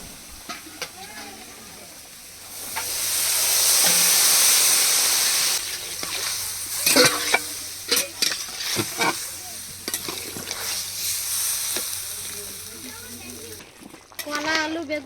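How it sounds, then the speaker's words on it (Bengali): Mixed vegetables including eggplant are sautéed in a large pot for a village feast for about a hundred people, giving a loud continuous sizzle with repeated scraping stirs of a metal spoon, and a voice speaks over parts of it. "সবজিগুলো সব কষিয়ে নিচ্ছি এবার জল দিয়ে দেবো"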